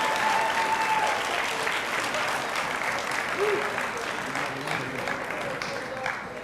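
Steady crowd applause fills a school awards ceremony for 8th graders, many hands clapping at once in a continuous, evenly loud roar with faint voices underneath.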